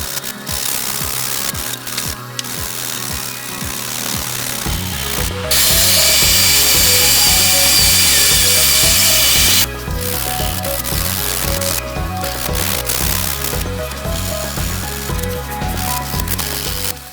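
A power polisher working over body filler on a car side skirt ahead of primer, a steady loud whirring grind with rhythmic pulsing, rising to a harsher hiss for a few seconds midway before settling back.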